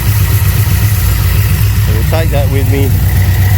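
Holden HZ with an LS engine swap idling cold, a steady low rumble running throughout with someone talking briefly over it near the end.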